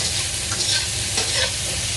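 Food sizzles loudly in a hot cast iron pan, with scraping and stirring sounds as it is tossed around, steady and close.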